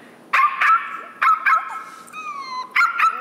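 A voice imitates a puppy barking, giving a few short high yips in quick pairs, then a drawn-out whimpering whine, then two more yips, loud and close with no other talk.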